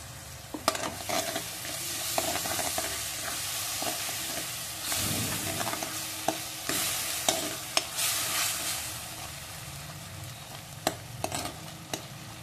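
Tomato paste fries in an oily onion-spice masala for a restaurant-style cashew paneer curry, giving a steady close sizzle and hiss. A spoon stirs and scrapes the pan now and then throughout, with no talking.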